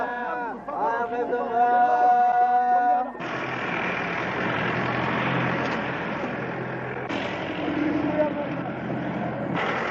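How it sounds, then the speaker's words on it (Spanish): Crowded cars come and go at a Moroccan-style pilgrimage gathering, with engine rumble and traffic noise beneath loud crowd chatter, after a short stretch of music or chanting at the start. "El ajetreo y vaivén de coches abarrotados de gente dispuesta a cumplir la ziara es incesante."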